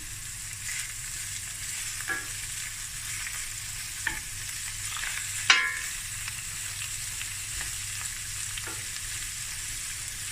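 Sausage pieces and mixed vegetables for fried rice sizzle steadily in a hot pan, a soft continuous frying hiss with a few sharper clinks and scrapes from stirring, no talking.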